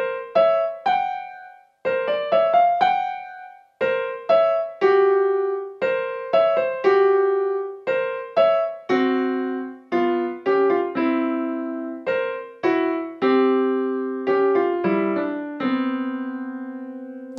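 Korg B2SP digital piano notes and chords play solo in clear, separate strikes, harmonies clashing and unsettled, each chord ringing briefly before the next.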